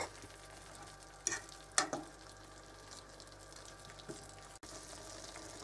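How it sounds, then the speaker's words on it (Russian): Pork with sun-dried tomatoes stews in a pan, a faint, steady low sizzle with a few sharp scrapes and knocks as the meat is turned over. "Переворачиваем мясо на другой бочок. Продолжаем тушить дальше."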